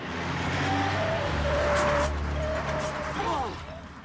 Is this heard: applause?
no